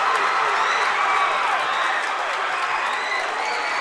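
A packed high school basketball gym erupts, the student section cheering and clapping in a dense, loud, unbroken roar that fills the whole stretch.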